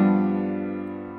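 A single sustained block chord struck on piano, a reduced chord from the first measure of Bach's Prelude in C Major, ringing and slowly decaying over about a second.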